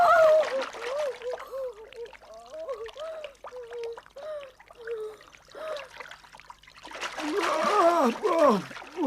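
In a 1970s animated cartoon, a splash of water rises near the end after a stretch of talking, a short wet burst of churning spray close by.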